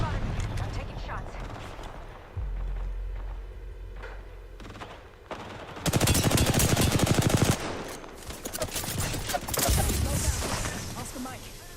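Bursts of automatic and single gunshots from Apex Legends gameplay, loud and close, with a dense rattling volley in the middle and further shots later, over game ambience.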